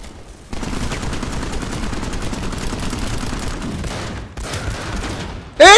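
Sustained rapid gunfire from a Planetside 2 battle on PS4, dense continuous bursts for several seconds with a brief pause near the end, then a sharp loud burst.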